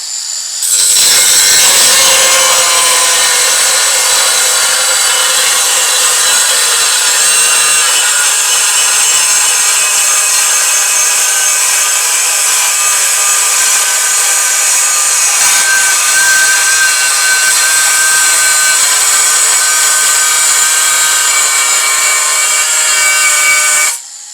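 A Distar Butterfly cutting disc on an engraver cuts continuously for over twenty seconds, a loud, steady high-pitched whine and grinding hiss up close, with no talk.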